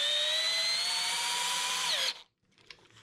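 A FERM CDM 1149 cordless drill drives a screw through wood, a steady high whine held for about two seconds that dips as the screw breaks through, then stops, leaving a faint click.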